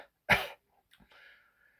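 One sharp cough, then a short throat-clearing rasp, close and quiet in an otherwise silent room.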